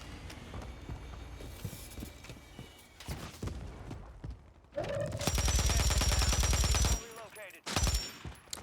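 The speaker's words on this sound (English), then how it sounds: "get involved in all that shooting that's going on" Rapid bursts of automatic gunfire and scattered single shots from a Warzone battle royale match, loud and continuous through the middle, with sparse thuds and distant pops around it.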